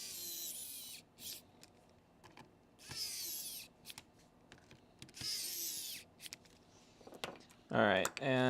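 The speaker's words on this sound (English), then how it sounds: "Let's get a few screws in it real quick." Several short bursts of a small electric screwdriver driving screws into a Nintendo handheld console case, whirring in separate runs with quiet gaps between them, with clicks and handling noise and a final louder buzz.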